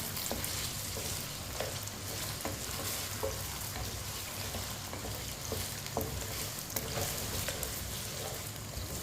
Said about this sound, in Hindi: इसे ऐसे ही चम्मच चलाते हुए फ्राई करना है, हल्का सा ब्राउन करना है।